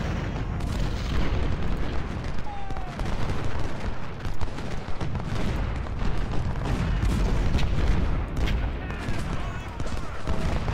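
Musket fusillades and booming artillery fire from a Civil War battle in the video game Ultimate General: Civil War, a dense, continuous crackle of volleys and blasts with someone talking over it.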